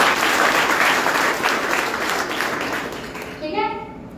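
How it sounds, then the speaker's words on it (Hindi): A seminar audience gives a dense round of applause that fades over a few seconds, and a voice comes in as it dies away. "एक बार ताली बजाओ"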